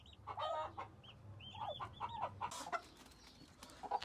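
High, thin cheeping calls from guinea fowl chicks, repeated irregularly with some clucking nearby over a low background hum.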